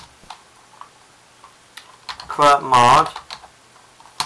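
Keys tapped on a Mac keyboard while entering a terminal command, sparse clicks spread across the clip, interrupted midway by a short burst of speech.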